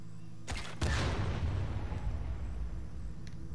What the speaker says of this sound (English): Don't have to tell me twice to make explosions.